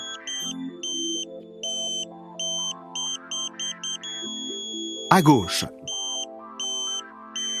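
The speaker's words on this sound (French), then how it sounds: "La tonalité doit changer et retourner sur la tonalité continue quand on lâche l'antenne" A satellite dish pointing tool emits a steady beeping tone that shifts in pitch as the antenna is pushed, with someone speaking over it and a brief handling clatter in the middle.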